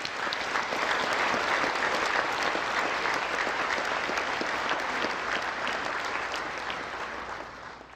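Sustained, dense applause fills a large hall at the 54th Korean National Prayer Breakfast for the attendees, a steady roar of many hands that holds for several seconds and eases slightly toward the end.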